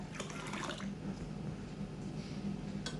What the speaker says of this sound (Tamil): இதில் நம்ம 10 கப் அளவுக்கு தண்ணி சேர்த்துக்க போகிறோம்.